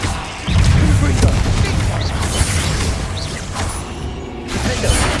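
A Confringo fire spell explodes in Hogwarts Legacy with a heavy, booming blast that rolls on for several seconds. The rumble is thick and continuous, with crackling bursts on top and no voice over it.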